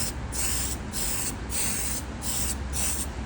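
Short bursts of matte black Tamiya spray paint hissing from a can onto a model monster truck deck lid, four steady close hisses separated by brief pauses.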